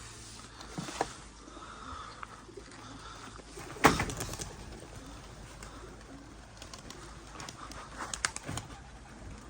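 Young pigeons returning to their loft during a training session, soft cooing and fluttering close by against a steady outdoor hiss, with one sharper burst of wing noise midway and someone speaking briefly.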